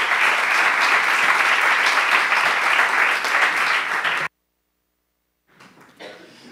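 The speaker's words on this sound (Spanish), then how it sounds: "Así que un aplauso." Hall audience at an academic lecture gives sustained, even applause for about four seconds that stops abruptly, followed by a short silence and then faint rustling and a voice starting to speak.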